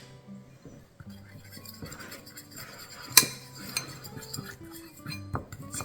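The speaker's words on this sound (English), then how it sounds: "let's get all the lumps out of that lupin flour" A utensil stirs lupin flour with baking powder and salt in a bowl, making close, irregular metallic scrapes and light clinks against the dish, with one sharper clink partway through.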